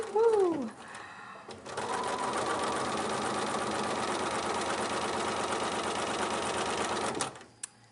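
A sewing machine with 5mm wide feed dogs stitches in a steady, fast, even run for several seconds, loud and close, before stopping abruptly, with a brief voice at the start.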